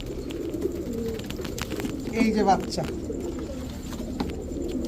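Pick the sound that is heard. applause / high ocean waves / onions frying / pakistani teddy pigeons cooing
pakistani teddy pigeons cooing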